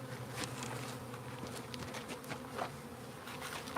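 Bees buzz continuously around a hive, a dense droning hum from many insects close by with occasional louder passes, no voices.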